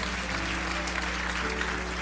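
Church congregation applauding steadily through a worship service, a dense, even wash of clapping from many hands with faint voices mixed in.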